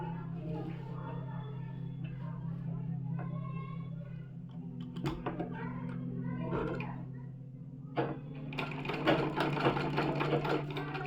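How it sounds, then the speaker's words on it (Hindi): A sewing machine stitches palazzo trousers in a steady, close mechanical hum that runs throughout, with a few brief clicks and a louder rattling burst near the end. "फिर सिलाई लगाऊंगी इस पे।"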